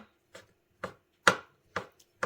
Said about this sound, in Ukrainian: Також нарізаємо і сосиски невеличкими кружельцями.